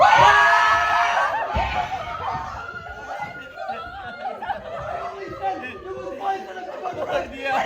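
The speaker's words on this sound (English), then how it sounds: "The townspeople activate their greatest and most effective defense mechanism, panic and yelling." A crowd of townspeople panicking all at once, loud overlapping yelling, screams and chatter that stay dense and agitated throughout.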